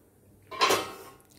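A pan lid set down over cheese bread cooking on the stove, one close metallic clink that rings briefly and fades, alone with no talk.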